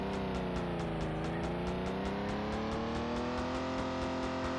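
A car's engine drones and revs steadily in GTA, a loud, continuous motor sound with a slowly rising pitch and no speech over it.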